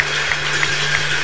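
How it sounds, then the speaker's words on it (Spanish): A church congregation claps in praise during a baptism prayer service, a brief burst of dense, steady applause over a low hum. "Le damos un aplauso al Señor y lo adoramos."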